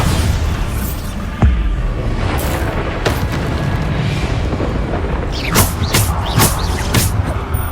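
Bombarda blasting-spell explosions in Hogwarts Legacy, a sharp boom near the start followed by several more bursts clustered toward the end over a steady loud rumble, with a voice talking over part of it.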